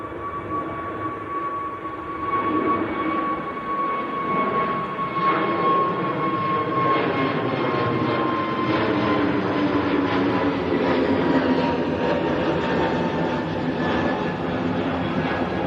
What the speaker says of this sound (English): Easy jet to Paris, just getting airborne.